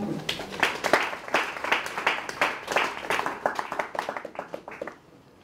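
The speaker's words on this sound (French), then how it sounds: "Acclamons pour Jésus." An audience at a sermon applauds for Jesus, with a close round of clapping that holds steady, then thins into scattered claps and fades out near the end.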